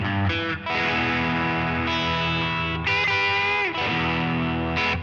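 Electric guitar driven through an Analogman King of Tone overdrive pedal, playing sustained distorted chords and ringing notes with a bright, gritty tone, loud and upfront with no voice.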